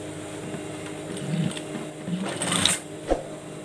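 Sewing machine stitching an elastic fitted bed sheet, a close steady whirring run with mechanical needle chatter, building in short bursts and ending with a small clack, no talk.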